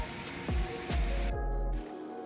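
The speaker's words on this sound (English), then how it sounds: "torrential rain begins pouring down" Torrential rain pours down over a city in a dense, steady wash, broken by low thumping bursts, before the downpour cuts away near the end.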